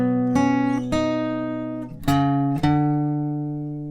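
Clean electric guitar notes are struck one after another, each ringing out and decaying, with a slide between two of them.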